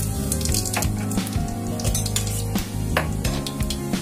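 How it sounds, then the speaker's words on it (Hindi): Whole garam masala hits hot oil in a pan for a kaleji recipe, giving a steady frying sizzle with small crackles and occasional clinks of a utensil against the pan. "तेल हमारा गरम हो गया है, अब हम इसके अंदर गरम मसाला डालेंगे।"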